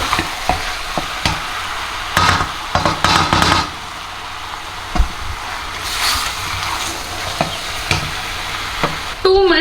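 Ground masala is stirred into chicken curry in a pot, a spoon scraping and knocking in repeated bursts over a faint sizzle, close and fairly loud.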